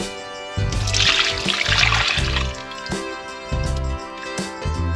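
Water poured from a container into a crock pot holding French onion soup mix, a bubbling, glugging trickle in a few separate pours, close by and without talk.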